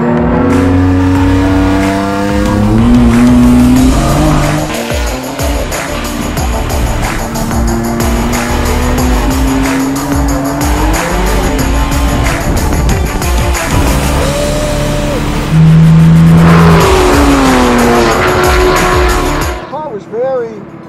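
Drift car on a drifting run, engine revving hard with long rising and falling tones and tire squeal, loud and continuous throughout before cutting off at the end.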